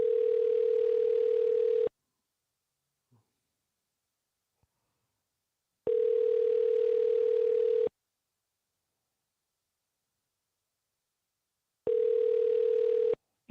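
Outgoing phone call ringback: three identical two-second tones, clean and loud, with about four seconds of silence between each.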